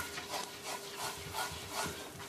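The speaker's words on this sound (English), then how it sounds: "I want to scrape up all the fond off the bottom, which is that brown crusty parts" A utensil scrapes browned meatball drippings off the bottom of a pan in soft, rhythmic strokes, about five even passes, quiet and close with no talking.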